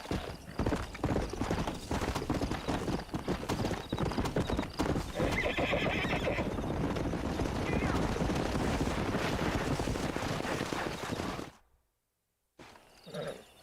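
Horse hooves clip-clop in Red Dead Redemption (2010) on Xbox Series X, joined by whinnying and neighing over gusty wind, with faint voices, before the sound cuts to brief silence near the end.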